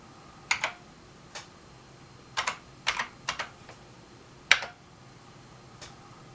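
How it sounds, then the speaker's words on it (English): Typing on the keyboard of an Altaid 8800 clone of the Altair 8800: a handful of separate key clicks with uneven gaps, close and clear over a faint steady hum. "What if I type in dump?"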